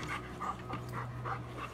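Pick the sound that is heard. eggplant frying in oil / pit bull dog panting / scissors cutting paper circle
pit bull dog panting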